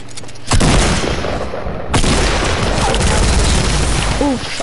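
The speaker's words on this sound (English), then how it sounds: "I headshotted this dude twice with the combat SMG" Rapid combat SMG gunfire in a shooter video game, loud, dense and continuous bursts that fill the clip, with a brief break before the shooting resumes.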